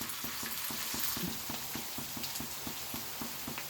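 Vegetable chops frying in lightly heated oil on a tawa over low heat, with a soft, steady sizzle and evenly spaced little ticks and pops, close by and without speech.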